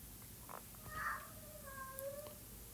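A pet cat meows a few times close by, drawn-out and wavering calls with no one speaking, over a steady low background hum.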